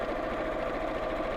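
A domestic sewing machine runs in reverse with a steady, even mechanical whir and hum, close and continuous with no talking.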